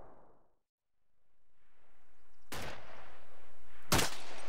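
Two sharp, isolated gunshots in the ArmA 2 video game, separated by a pause over faint background rumble, the second shot slightly louder.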